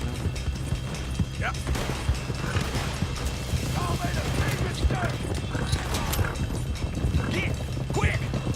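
Horse hooves in Red Dead Redemption 2: a steady, continuous clatter of hoofbeats from a ridden horse runs throughout, mixed with mechanical game sounds and voices talking over it.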